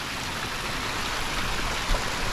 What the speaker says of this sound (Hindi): साथ में चश्मा बह रहा है, पानी पी सकते हैं